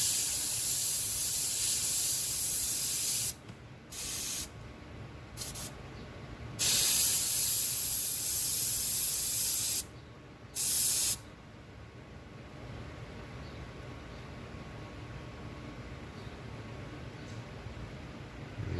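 Airbrush on low pressure held close, spraying light paint onto the tracks of a 1/35 scale model: a steady soft hiss in several bursts of a few seconds each with short pauses between, alone and near.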